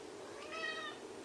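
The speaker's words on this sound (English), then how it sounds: "That's my cat trying to come in here and disturb us." A house cat meows once, a single drawn-out plaintive cry of under a second, close by and fairly quiet, trying to be let into a room.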